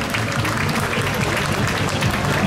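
A crowd applauds steadily at an August 15 parade in Cambrai, cheering the mayor and town council. The clapping is dense and continuous, with a faint murmur of voices underneath.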